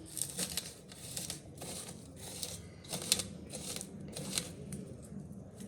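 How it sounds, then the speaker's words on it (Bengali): Dried red chilies crushed by hand for fuchka water, a steady close crackling and crumbling with irregular bursts, no talking. "শুকনো লঙ্কা গুঁড়ো করে নিচ্ছি"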